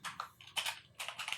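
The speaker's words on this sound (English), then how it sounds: "we're going to type in headers" Quiet typing on a computer keyboard while entering spreadsheet column headers, short bursts of key clicks with brief pauses between them.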